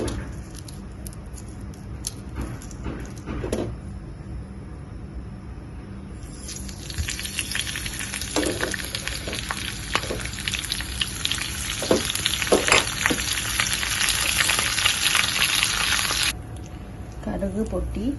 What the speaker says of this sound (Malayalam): കടുക് പൊട്ടി പച്ചമുളക് ഇട്ട് കൊടുക്കാം.